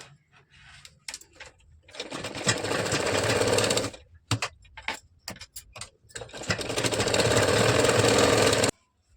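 A sewing machine stitches a katori blouse in two long runs, a steady close mechanical whirr broken by short stop-start bursts in between, with no talking.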